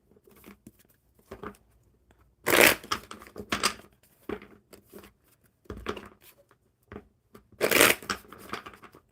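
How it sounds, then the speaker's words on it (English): A deck of cards riffle-shuffled during a live card-reading stream, heard close with bursts of crisp rustling and two louder riffles, separated by quieter handling and tapping, with no talk. "One more good shuffle."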